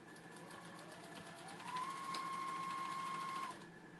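A sewing machine runs back and forth to reinforce the feet of a fabric memory bear, a quiet hum that swells into a steady whir for about two seconds, close and alone.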